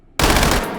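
A brief, loud full-auto burst from a gun in the virtual reality shooting game H3VR, the shots packed into a dense, continuous roar that starts abruptly and cuts off quickly.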